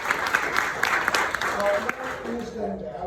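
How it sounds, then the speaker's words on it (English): Applause for three people on stage at a masterclass event in Dubai, a dense burst of hand clapping that fades out over about three seconds while a voice speaks briefly near the end. "give these 3 lovely people a big round of applause"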